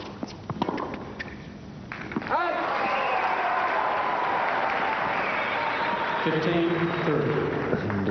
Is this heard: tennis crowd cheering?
yes